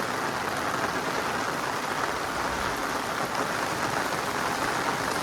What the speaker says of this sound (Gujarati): આ વરસાદ તો જોઉં તમે